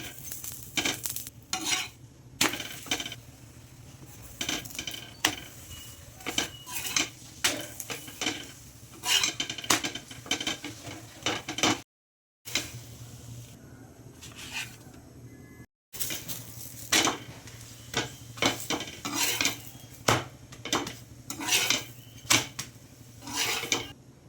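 A paratha made with leftover dangar bhaji roasts in oil on a pan, giving repeated bursts of scraping and pressing over a light sizzle, with two brief silent gaps.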